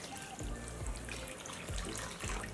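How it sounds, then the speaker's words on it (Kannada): Homemade rice semolina is washed in a vessel with lukewarm water, making quiet sloshes and trickles that come in a few soft, repeated surges. "ಇಲ್ಲ ನಾನು ಬೆಚ್ಚ ನೀರು ಹಾಕ್ತಾಯಿದ್ದೀನಿ. ತೊಳ್ಕೊಳ್ಳೋಣ ಒಂದು ಸಾರಿ."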